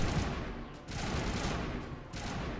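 Video-game gunfire rattles in dense, continuous bursts, steady and fairly loud, with brief dips between volleys.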